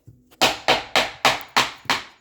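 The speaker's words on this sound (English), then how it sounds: "I'm pressing down as I'm hammering to flatten it out." Six sharp, evenly spaced hammer taps strike a laminate flooring plank to knock it into place, each a loud close thud with a quick decay, no talking.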